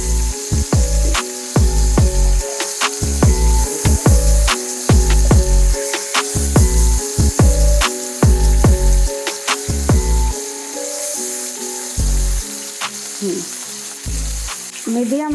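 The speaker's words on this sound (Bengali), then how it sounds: "মিডিয়াম আছে মাছটা ভাজতে হবে।" Koi fish sizzling in hot mustard oil in a frying pan, a steady crackling fry broken by sharp spattering pops and occasional stirring clatter, close and loud throughout with no talking.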